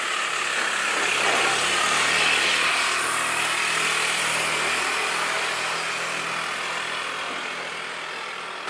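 Motorcycles pass along a road at a mask-checking roadside stop, a loud, continuous engine roar that swells and then slowly fades as they move away, with no talking.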